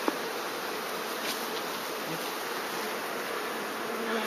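Honeybees from a shipped package buzzing while being hived outdoors in Donegal, a constant dense hum of many bees close by with no talk over it.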